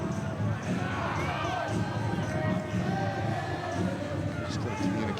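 A large crowd at a rugby cup final, the Meads Cup Final, fills the air with a continuous loud roar and scattered shouts, with a voice speaking over the din.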